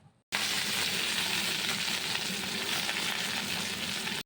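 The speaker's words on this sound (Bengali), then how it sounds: "কড়াইয়ের মধ্যে কালো জিরে আর কাঁচা লঙ্কা দিয়ে দিলাম এরপর সব সবজিগুলো দিয়ে দিলাম" Aubergine, radish and spinach with black cumin and green chilli hit hot oil in a wok, bursting into a loud, steady sizzle after a brief moment of silence and frying continuously to the end.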